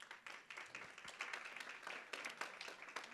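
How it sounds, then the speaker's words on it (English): Audience applause at a community safety event, a moderate patter of scattered hands clapping in uneven bursts that rise and fall. "that applause should go to all of you"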